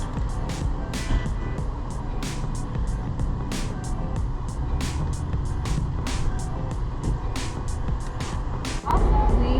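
A vehicle on a test drive rolls along the road with a steady engine and road rumble from inside, marked by regular light clicks or ticks and a brief bump near the end.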